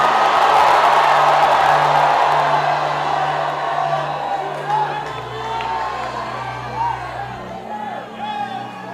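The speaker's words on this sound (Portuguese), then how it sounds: "dê um grito para esta rua inteira ouvir" A church congregation at an evangelical street sermon shouts and cheers loudly together, a dense roar of voices that swells at first and then gradually thins into scattered yells and whoops.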